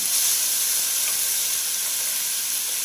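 Spice paste frying in hot oil already tempered with half a spoon of black cumin, cooking for a Bengali brinjal dish; a steady, fairly loud broadband sizzle and hiss runs throughout with no voices.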